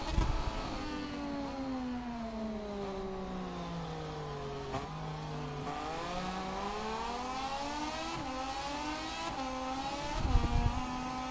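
A race car engine in a racing video game pulls through a lap, its pitch climbing and dropping with gear changes and corners, a loud steady whine throughout with a harsher burst near the end, with no talking.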